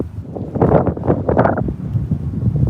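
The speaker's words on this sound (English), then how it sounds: "It's really windy now." Gusty wind on Halloween in Salem buffets the microphone in loud, uneven rumbling bursts, close and continuous with no talking.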